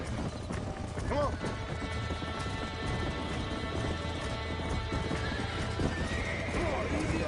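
A horse neighs and whinnies amid fast clopping hooves in the Red Dead video game, loud and close, with shouting voices and other game noise mixed in.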